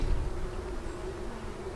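Honey bees droning in a dense, steady swarm at an opened hive holding capped and uncapped honey, a continuous close buzz with no voices.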